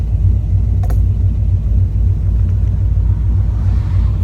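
A Chrysler VG Valiant drives along the road, its engine a steady, loud low rumble heard from inside the car with a couple of faint clicks and no talk.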